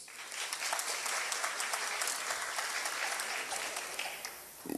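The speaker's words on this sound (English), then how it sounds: "A round of applause, please." An audience at a community crime-prevention meeting gives a sustained round of applause, dense and even throughout, fading slightly before the end.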